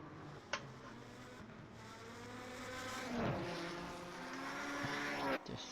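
Williams Formula One car racing down a straight at the 1988 Italian Grand Prix qualifying in a video game, a high-pitched engine whine climbing through gears with a brief shift blip, steady and moderately loud with no voices.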